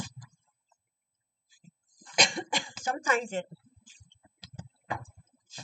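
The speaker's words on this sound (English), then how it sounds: "I start coughing a bit" A few throaty coughs and throat clearing up close, clustered in the middle of otherwise quiet moments.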